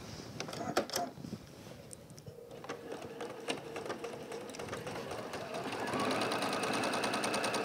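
A sewing machine stitches down the sides of a large William Morris tapestry-fabric lining, running in short bursts and then a steady fast whir, close and loud, with a few thumps of fabric handling.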